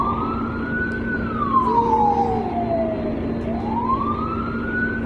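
An ambulance siren wails nearby, gliding slowly down in pitch and then rising again over a steady engine drone.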